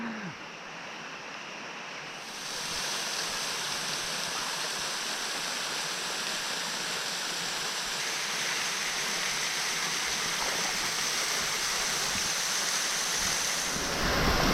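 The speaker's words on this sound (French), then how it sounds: "Très belle cascade" Steady, dense rush of a waterfall cascading in Litchfield National Park, heard alone and close, swelling slightly louder after a couple of seconds and then holding constant.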